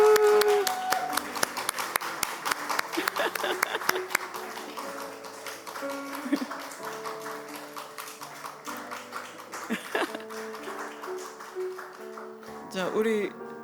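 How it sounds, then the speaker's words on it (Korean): A church congregation at a Sunday service claps for the young people called forward, a steady patter of many hands running throughout, mixed with voices and tonal sound in the room. "박수 쳐주세요."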